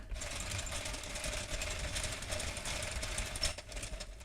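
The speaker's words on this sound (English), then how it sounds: "you just want to crank your machine in a clockwise direction until your first pin is just to the right of your yarn guide" A Sentro circular knitting machine cranked clockwise, giving a steady close mechanical rattling whir with a faint ticking hum and no talk.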